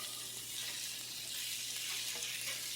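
Salt and pepper shrimp frying in a hot pan over high heat, a steady broadband sizzle holding evenly throughout at moderate level, with no talking.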